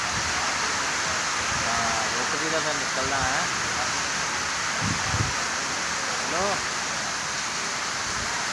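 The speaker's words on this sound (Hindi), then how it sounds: "बारिश बहुत तेज़ हो रही है, नाल हवा भी है।" Heavy rain pours steadily with wind, a dense constant roar that stays loud throughout while people talk over it.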